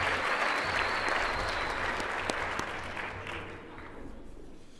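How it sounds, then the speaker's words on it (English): An audience at the TCCTA 73rd Annual Convention general session applauds its nominees with steady, full clapping that gradually fades toward the end. "Give a round of applause for our nominees"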